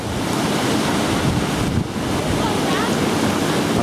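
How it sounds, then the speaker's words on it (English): Steady, loud rush of river water pouring over Top Cliff weir on the River Swale, a dense continuous roar mixed with wind buffeting the microphone outdoors. "This is top cliff weir."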